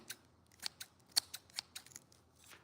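Scissors snip repeatedly in quick, crisp metallic cuts, close and fairly faint, in an uneven rhythm with no talking.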